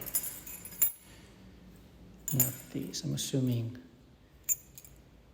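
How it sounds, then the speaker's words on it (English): A bunch of keys jangles and clinks in short bursts while someone hunts through them for the garage keys indoors, with a person speaking briefly between the metallic rattles. "But for that, I need keys."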